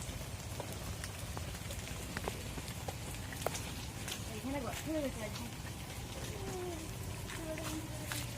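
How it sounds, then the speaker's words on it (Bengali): Steady, fairly loud rain pours down on a village in the Sundarbans near a mango tree, a continuous close hiss and patter throughout, with a brief curved call rising over it midway. "পরপর বৃষ্টি কিন্তু জোরেই হচ্ছে তো বৃষ্টি হচ্ছে"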